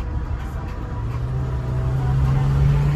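An MG car engine idles steadily during a stationary sound check, a low, smooth hum that holds even and gradually builds slightly in level, with no talking over it.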